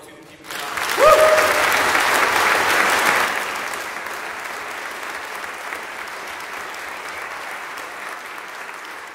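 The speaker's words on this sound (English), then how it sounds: "So I think a round of applause to the team at the back." An audience bursts into applause at an Armistice concert. The clapping swells quickly, holds loud for a few seconds, then fades to a lighter, scattered patter.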